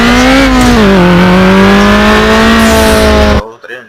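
Turbo whine from a car in a Need for Speed racing game, a loud steady rising engine tone with boost that holds for over three seconds and then cuts off abruptly.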